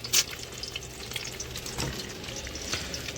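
Egg sizzles and is stirred in a hot pan with onion, cooked like fried rice; steady close frying crackle with a sharp spatula scrape near the start and a few soft clinks.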